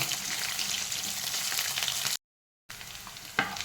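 Three onions frying in a pan for tomato chutney make a dense, close, continuous sizzle. It cuts out briefly to silence partway through, then resumes with a short scrape of stirring near the end.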